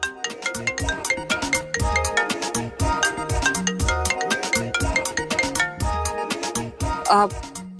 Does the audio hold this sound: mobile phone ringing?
yes